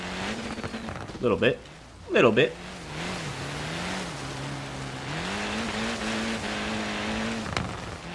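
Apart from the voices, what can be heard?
car engine and tires in video game Forza Horizon 3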